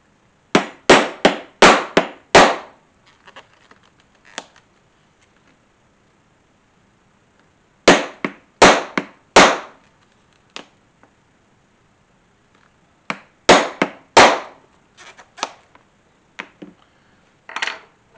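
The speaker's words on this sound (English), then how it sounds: "I'll go ahead and punch my 2 holes for my rivets. And that's where I use an 1/8 inch punch." A 1/8 inch punch is hammered through leather for rivet holes on a guitar strap, heard as three bursts of sharp, close, loud strikes, five or so rapid blows each, separated by quiet pauses with a few softer taps.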